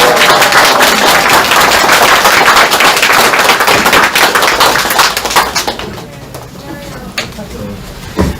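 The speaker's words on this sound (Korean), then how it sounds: "큰 박수 부탁드립니다." An audience applauds at a party chapter chairman's inauguration ceremony, loud dense clapping with cheering for about five seconds that then thins out into scattered claps in a reverberant hall.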